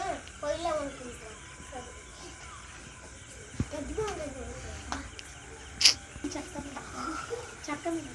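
Young chicks peep in quick, high, thin chirps near a household stove area, scattered bursts close by with a hen clucking and people talking softly underneath.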